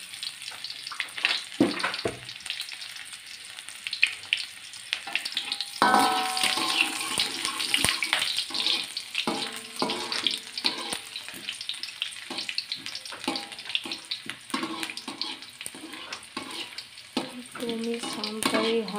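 Garlic sautéed in a pan while being stirred makes a continuous, close sizzling crackle, with scraping stir strokes and small clinks throughout and no talking.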